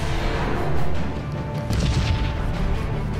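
Starship weapons fire in the Sunrider space strategy game: a loud, dense burst of booming blasts and impacts, close and heavy, with rumbling low end continuing through the salvo.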